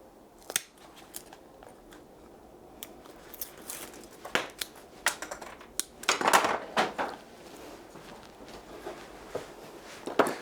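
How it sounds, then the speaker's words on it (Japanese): Bamboo stakes driven into the soil of a bonsai pot while repotting a Chinese juniper, heard as scattered sharp taps and knocks of varying strength, close up with no talking. "でもう一つ今度はこちら側に竹の打ち込みを行います。"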